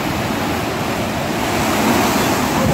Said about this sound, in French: C'est sûr, c'est une tsunami.